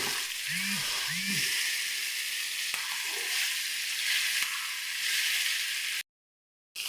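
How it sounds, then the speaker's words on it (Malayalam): Snakehead murrel fish fries in a pan with a continuous, close, hissing sizzle. A couple of short chirping tones come early, and the sound drops out briefly just before the end. "നമുക്ക് നമ്മുടെ ഈ ഒരു വരാൽ അടിപൊളിയായിട്ടൊന്ന് ഫ്രൈ ചെയ്തെടുക്കാം"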